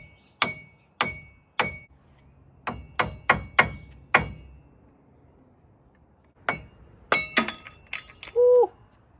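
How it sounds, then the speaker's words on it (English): A small pry tool works the hub cap off a 2005 GMC Sierra truck wheel: about a dozen sharp, close metallic clinks and taps in irregular bursts, ending in a brief squeak, with no talking. "I got a little pry tool here. We're gonna try to take her out nice and careful."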